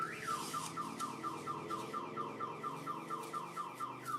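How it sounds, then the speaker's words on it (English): A car alarm goes off nearby with a steady, repeating electronic warble that cycles in a fast, regular rhythm at constant loudness, with no talking over it. "And my alarm's gone off."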